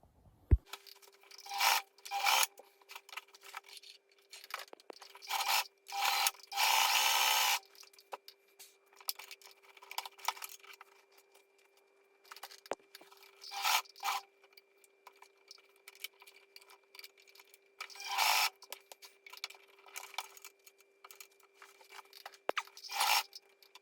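A sewing machine struggles to stitch a border onto Triumph TR7 interior trim, producing short irregular bursts of rasping mechanical noise with stops and pauses, up close over a faint steady tone.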